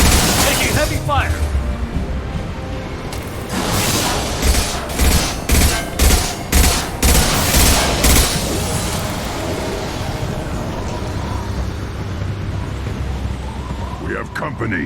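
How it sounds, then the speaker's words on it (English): Heavy gunfire in the sci-fi shooter Mass Effect on the planet Tuchanka, dense bursts of rapid shots and booms hammering in a cluster through the middle, with rumbling combat noise and voices around it. "Taking heavy fire!"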